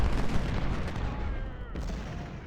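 Artillery fire in the Ultimate General: Civil War game, battle of Harrison's Creek: a dense stream of distant booms and gunfire cracks, fairly faint, with a sharp blast near the end.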